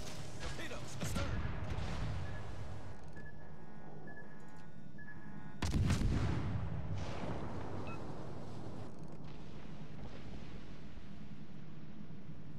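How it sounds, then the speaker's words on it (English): An enemy destroyer bursts apart after a torpedo strike in a naval video game, one heavy booming explosion with a long rumbling tail under constant sea and wind noise, with faint earlier thuds. "Enemy destroyer blown up."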